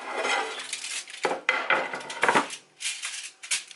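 Washed fish pieces set down into a cooking dish with clinks and knocks of pots and utensils, a series of close, irregular handling sounds with brief pauses.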